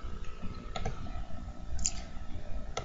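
A computer mouse gives a few soft, sharp clicks, close and isolated against quiet room noise.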